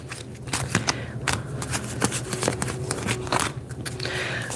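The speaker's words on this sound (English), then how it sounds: "Some of the cards flipped when I was shuffling." Playing cards are riffled and shuffled in quick, crisp bursts of flapping clicks, close up, with occasional soft background sounds between.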